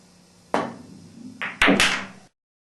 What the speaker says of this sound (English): I'll shoot straight through the cue ball towards the 5.